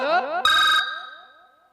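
A loud electronic phone ringtone plays a short melodic phrase, then a sustained chime that fades away over the next second.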